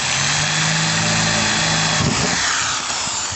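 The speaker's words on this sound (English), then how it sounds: "just putting another pilot hole in" A drill bores a pilot hole through the roof of a 2019 Peugeot Boxer van, giving a steady, loud, continuous motor whine for the whole stretch with no talk.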